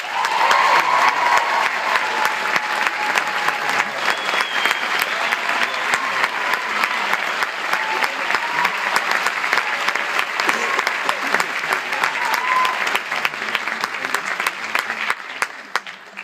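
Sustained audience applause at a New York Film Academy graduation ceremony as a speaker is welcomed to the podium, dense steady clapping from a large crowd that fades out near the end.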